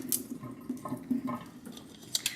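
Rice is rinsed under running water, heard as close, soft splashing and trickling with small sloshes and drips in an uneven rhythm, and no talking.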